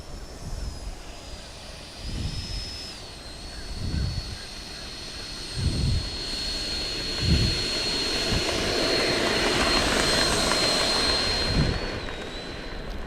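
XFLY Sirius 80mm electric ducted-fan RC jet taking off and flying, a high steady whine that swells louder as it climbs and passes, with periodic low thumps from wind buffeting in the background.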